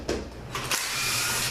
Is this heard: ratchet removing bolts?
yes